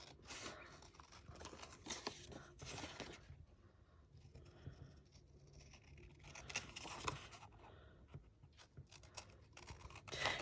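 Paper pieces for a Christmas journal cut out with scissors: repeated snipping and rustling of paper in several busy bursts, close and fairly quiet, with a short lull partway through.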